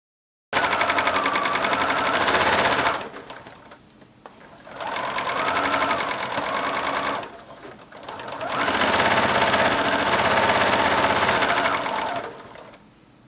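A sewing machine joins strips for a miniature rail fence quilt top, running in three steady whirring bursts with a rapid needle rhythm and brief pauses between them, close and loud.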